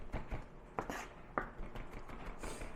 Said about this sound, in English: 15 grams of garlic, and it's really not a lot to chop, so it tends to chop pretty easily